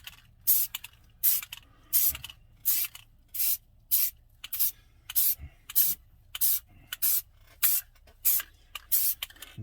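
Short hissing bursts of Plasticoat sandable red oxide spray primer applied to styrene tracks, about a dozen quick even blasts in a steady rhythm, close and alone.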